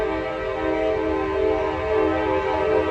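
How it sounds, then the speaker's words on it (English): A train rumbles past with a steady, loud, continuous drone and strong tonal hum, unbroken throughout and close by. "now it's a train."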